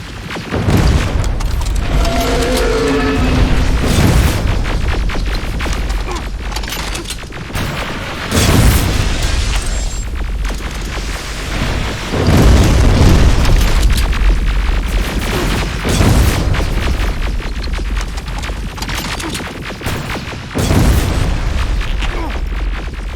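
Loud, repeated explosions and heavy booms from a T-47 machine being destroyed in the first-person shooter Terminator Resistance, several blasts in a row with brief gunfire-like bursts under continuous rumbling combat noise.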